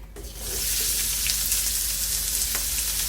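Onions and meat hit hot oil in a wok for adobo peppered steak, bursting into a loud, continuous close-up sizzle that holds steady after a brief initial clatter.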